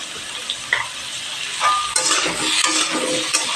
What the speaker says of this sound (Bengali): নুন হলুদ দিয়ে ভালো করে ভেজে নেব।